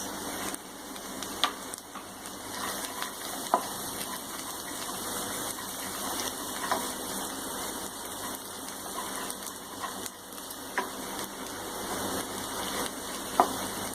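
Garlic fries in a pan for dal tadka, giving a steady, close hiss of sizzling oil with a few faint clicks of a utensil, no speech.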